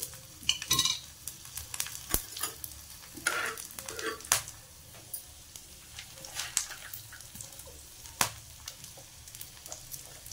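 Whole spices (cloves, black peppercorns, a piece of cinnamon and cardamom) frying in a pan at home, giving a steady soft sizzle with intermittent stirring scrapes and brief clinks, close and moderately loud.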